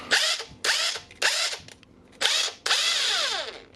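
Repaired Makita impact wrench running in five short bursts, each a loud high motor whir that spins up and winds down, the last burst longest, heard close with no talking.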